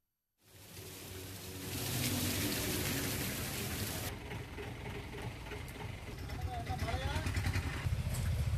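Heavy rain pouring down in Tamil Nadu, a dense, loud hiss of downpour starting abruptly and continuing steadily, with low rumbling noise of passing traffic beneath it.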